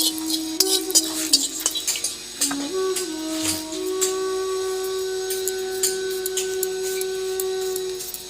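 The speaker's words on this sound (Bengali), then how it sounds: "এই তিনটে আর এই শুকনো লঙ্কা শুকনো খোলায় ভেজে নিই" Dried red chilli, cumin and coriander dry roasting in an empty pan for Kashmiri cabbage, heard as faint steady scraping and stirring with light clinks over a constant low kitchen hum.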